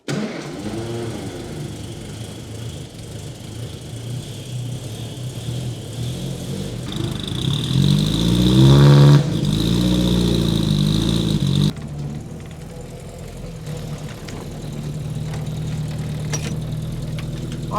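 The engine of a 1950s Austin A30, found in a barn after sitting unused for 52 years, runs at a rough idle, revs up loudly for a few seconds, then settles back to a lumpy idle.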